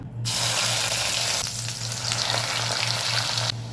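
Ground masala paste hits hot oil in a kadhai and fries with a loud, close, steady sizzle and crackle that starts abruptly and cuts off near the end, no talking.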